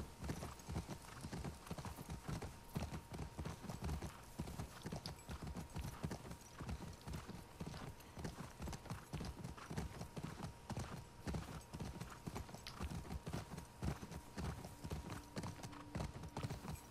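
Steady rhythmic clip-clop of horse hooves on a hard surface in The Last of Us Part II, continuous and fairly quiet, with faint background ambience throughout.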